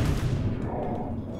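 Gunfire in the video game ARK Lost Island, a loud burst of booming shots up close that quickly decays into a rumbling tail.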